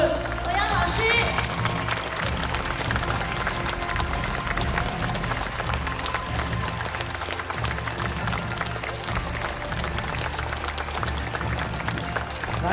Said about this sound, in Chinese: 最后最热烈的掌声